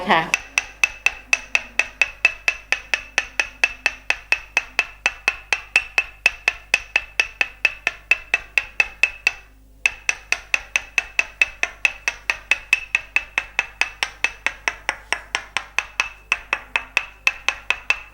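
A wooden mallet taps steadily in northern Thai tok sen massage across the back muscles of a person lying face down, with dozens of quick, evenly spaced knocks, a brief pause midway, then the same rhythm resumes.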